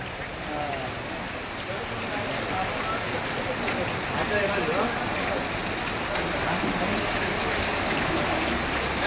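Continuous rain patters in Shantinagar in a soft, even wash, with faint voices now and then underneath.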